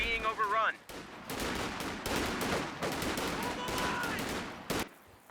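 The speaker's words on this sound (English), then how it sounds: "It's a really nice maneuver from DevM, bringing in this rifleman squad, turning these sandbags against Talisman" Rifle squad gunfire in the Company of Heroes 2 video game, with rapid bursts and scattered shots crackling over a busy battlefield, fairly loud and continuous, with a brief musical tone at the start.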